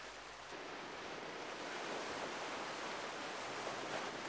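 Ocean surf washing onto Seven Mile Beach on Grand Cayman, a steady, full roar of breaking waves that swells slightly and holds without a break, with no voices.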